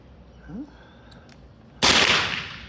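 A single sharp, loud report from an M16A1 (AR15) parts-kit rifle at an outdoor range, fired once after quiet handling noises, then a decaying echo.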